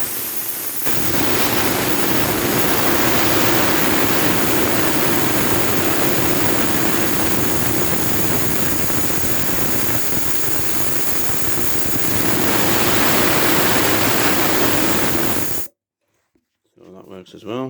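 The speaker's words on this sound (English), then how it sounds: "So that works as well, and then air compressor working" An air compressor runs loud and steady for about fifteen seconds, a dense continuous roar that suddenly cuts out, leaving near silence.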